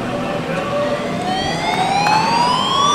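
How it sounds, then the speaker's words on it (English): A loud wailing siren with rising pitch sweeps, up close, over a dense crowd roar. "The sirens only mean one thing."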